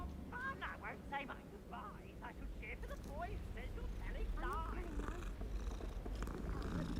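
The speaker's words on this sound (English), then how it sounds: "The cat." A cat purring in the video game Hogwarts Legacy, a low steady rumble running through the whole stretch beneath game voices and background sound.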